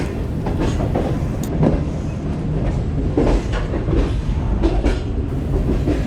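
Shalimar Express passenger train at Hyderabad Junction: a steady, loud rumble of moving carriages with faint rhythmic wheel clatter throughout and no voices.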